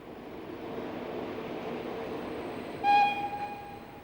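A German ICE high-speed train rumbles steadily as it departs, then a sharp high-pitched horn or whistle sounds briefly near the end over the continuing rolling noise.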